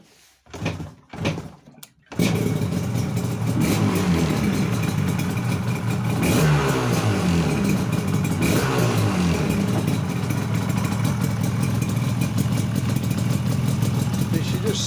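A rebuilt Yamaha RD350 LC two-stroke motorcycle is kicked over a few times, then catches and runs loudly up close, its crisp ringing engine rising and falling through repeated throttle blips.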